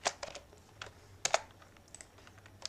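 Keys clattering on a computer keyboard while PHP code is typed, a handful of quick sharp clicks in short bursts with pauses between, close and moderately quiet with no talking.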